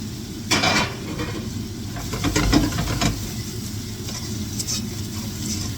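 Mushrooms and garlic sizzling in a hot pan for beef stroganoff, a steady fry with a few bursts of tossing and stirring as the pan scrapes and clatters, close and without talk.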